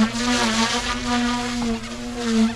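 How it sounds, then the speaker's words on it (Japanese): An engine-powered radio-controlled helicopter, an early M2 model, flies with a steady nasal engine buzz that rises and falls in pitch as the rotor pitch is worked, heard close and fairly loud. "今エンジン機のにね煽りながら飛ばしてます"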